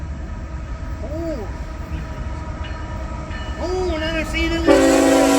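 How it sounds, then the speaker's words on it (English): A Canadian National manifest freight train rolls past with rumbling noise, horn blasts rising and falling near the middle and end, and a steady hum building louder toward the close; someone speaks briefly. "All right, we got another train on the way."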